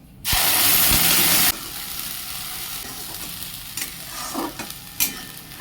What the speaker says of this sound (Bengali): তেল গরম হয়ে গেছে দিয়ে দেবো আদা রসুন পেঁয়াজ বাটাটা